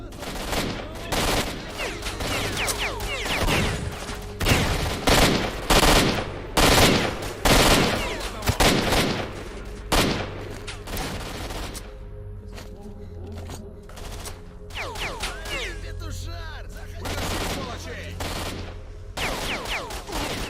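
Gunfire in STALKER: Shadow of Chernobyl, dense bursts of automatic shots and single cracks rattling close and loud, easing off in the middle before flaring up again, with someone talking over parts of it.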